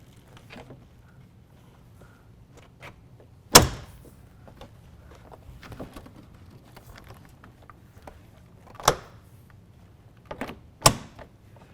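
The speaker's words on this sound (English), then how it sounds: "we're going to go ahead and fold each panel down one at a time, drop them into the rails" Gator FX hard folding tonneau cover panels on a Dodge Ram 1500 folded down one at a time into the truck bed rails, giving three sharp separate thuds spaced apart over a quiet background with faint handling noises.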